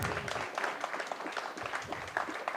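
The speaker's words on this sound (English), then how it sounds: "we could all give you an acknowledgement and a round of applause" An audience at a community gathering in Ajijic, Lake Chapala, applauding to welcome first-time visitors, a steady spatter of claps heard at a distance and fairly quiet in a large room.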